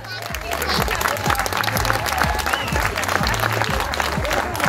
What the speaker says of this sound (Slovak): jeden potlesk pre vás od celých Budmeríc